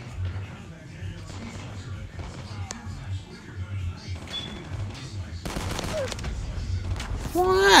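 Shotgun blasts and assault rifle bursts ring out in Call of Duty Mobile, sharp reports scattered amid game noise and mixed with a player talking, growing louder toward the end.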